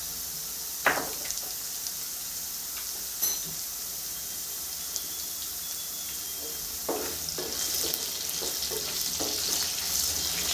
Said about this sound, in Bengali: আলুটা ভালো করে ভেজে দেখাচ্ছি